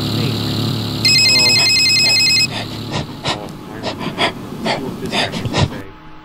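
In the horror video game Bad Milk, a telephone gives a steady, loud electronic ring for about a second and a half, followed by uneven breathy bursts and thumps.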